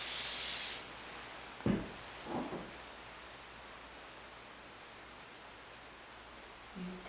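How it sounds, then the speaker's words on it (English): A short, loud burst of aerosol hairspray hissing at the start, then near-silence with a couple of faint rustles and soft handling noises. "So I'm going to spray that and I'm just going to leave it set for a minute."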